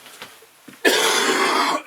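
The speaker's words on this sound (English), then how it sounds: "Excuse the cough." A single harsh cough breaks in after faint quiet sounds, loud and close, lasting about a second.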